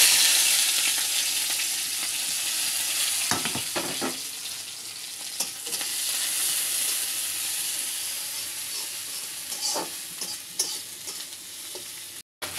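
Onion, garlic and green chilli fry in oil left over from fried fish, giving a dense steady sizzle broken by several stirring scrapes and spatula knocks before it briefly drops out near the end.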